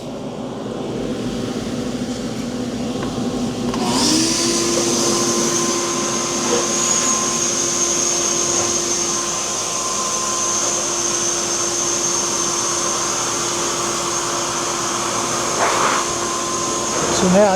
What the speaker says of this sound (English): use the vacuum cleaner in blow mode.